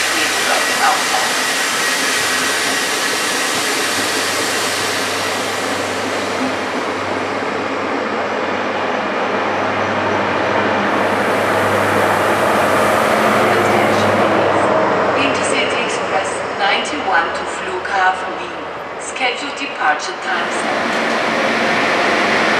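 A train rolls through Vienna's main railway station with a steady rumbling roar and hiss that builds and lingers, while a German station announcement plays over the platform noise.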